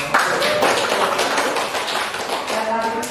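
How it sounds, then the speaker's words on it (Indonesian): A classroom group claps hands after points are announced in a team quiz, giving a loud, dense, continuous patter of many hands close by, with voices in the background. "Tepuk tangan dulu."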